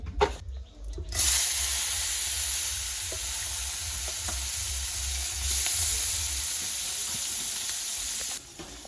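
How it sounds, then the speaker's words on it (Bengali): Koi fish coated in turmeric, chilli and salt fry in a kadai, giving a loud, steady sizzle and crackle that holds throughout with low background rumble and no talking. "কই মাছ মাখা হয়ে গেছে এখন এটা ভাজি করবে"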